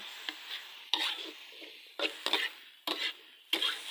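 Pad kaphrao with holy basil being stir-fried dry in a pan, with a soft sizzle under repeated scraping and clattering strokes of a spatula against the pan, close with no talk.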